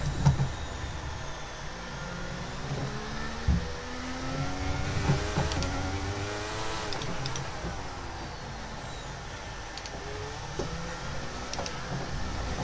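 Racing-game car sliding through a drift on a wet Brazilian Grand Prix circuit, a steady engine drone with shifting revs and tyre noise running continuously at moderate loudness, no talk.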